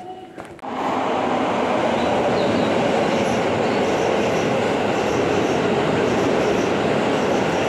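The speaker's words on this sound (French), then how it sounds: "Ce train-là, il va direct à l'aéroport." A train at a Tokyo station on the line bound for Narita airport rolls past close by, a loud steady rush of wheels and carriage noise building after a brief start and continuing unbroken.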